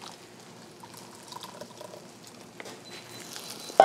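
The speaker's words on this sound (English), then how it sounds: "just go ahead and pour in our pasta sauce" Thick pasta sauce, a dandelion tomato sauce, pours into pasta in a hot pan, giving a soft, wet, gloopy sloshing at low level, ending with a sharp clink near the close.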